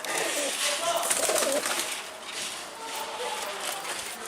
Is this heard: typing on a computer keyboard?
no